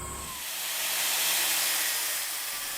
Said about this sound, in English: just a cutoff wheel mounted to an arbor in my lathe